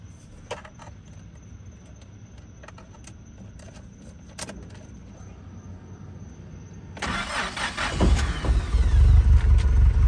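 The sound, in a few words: Starquest car engine starting and idling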